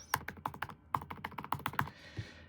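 Rapid, uneven keystrokes tapped on the shallow butterfly keyboard of a 2016 13-inch MacBook Pro laptop, about a dozen close, crisp clicks in quick succession with no voices, ending in a soft thud.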